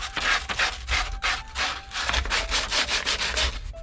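Sandpaper rubs over a wooden string winder in quick back-and-forth strokes, a close, steady, rhythmic scratchy hiss with no pauses.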